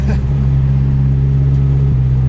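A Mitsubishi Lancer Evo 8 engine holds a steady low idle-like drone with a strong low hum, loud and close, running alone for a couple of seconds with a slight shift near the end.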